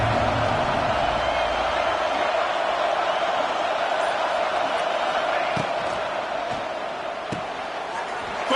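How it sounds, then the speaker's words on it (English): A big college football stadium crowd at Happy Valley roars in a steady, loud wash of noise on third down, with occasional sharp bangs and shouts rising out of it. "Here comes the noise from this big crowd in Happy Valley on 3rd down."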